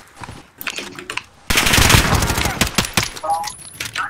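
Gunfire in Call of Duty: Modern Warfare during a Search & Destroy match: a few sharp, scattered shots give way to a loud, sustained automatic burst that rattles on, then trails into further shots.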